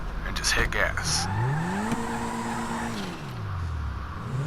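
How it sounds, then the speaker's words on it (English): A car in Grand Theft Auto 5 revving up and accelerating hard, engine pitch climbing then holding and dropping, with tire noise, while someone talks over it. "And just hit gas."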